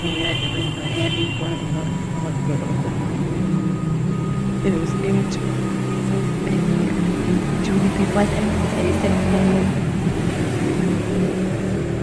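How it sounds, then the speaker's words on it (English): Steady roar of traffic drifting in through a window, a continuous low rumble heard from indoors that holds evenly without breaks from start to finish. "traffic is heard roaring out the window"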